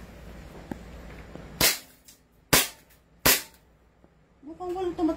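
2011 Hi-Capa gas airsoft pistol fired three times with sharp, loud cracks about a second apart, followed by a voice speaking.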